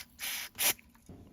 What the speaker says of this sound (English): So I'm gonna spray some of this on it